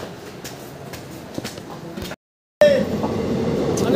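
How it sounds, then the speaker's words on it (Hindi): A train pulling into a station: a steady, loud rail rumble that cuts out briefly, then returns heavier, with faint platform noise around it. "ट्रेन आ चुका है देख सकते हो"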